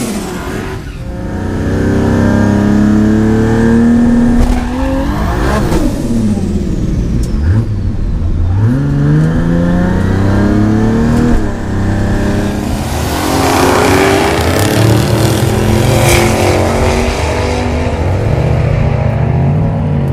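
A Ford Barra-powered drag car makes a full pass down a drag strip at Swan Hill. The engine roars loudly and close, rising in pitch through several gear changes, with the sustained howl continuing to the end.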